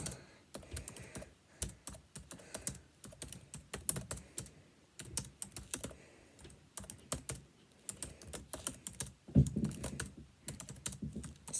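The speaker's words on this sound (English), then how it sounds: "I can't type as fast as Penguin Typer in pencils" Keys on a computer keyboard are tapped with pencils instead of fingers in bursts of rapid clicking, close and fairly quiet, with short pauses between flurries during a Nitro Type typing race.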